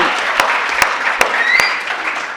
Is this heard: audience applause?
yes